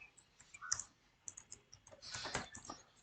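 Quiet typing on a computer keyboard while working on a design dashboard: a few scattered key clicks, then a denser run of keystrokes near the end, close and soft with no talking.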